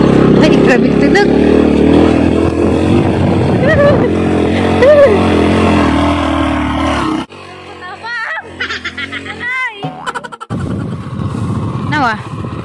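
A motorcycle rides along, its engine droning continuously under loud, close talk and laughter from people on board, the engine dropping back partway through as the voices continue.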